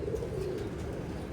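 A Teddy pigeon coos close by, a low steady burbling that runs without a break through the whole short stretch.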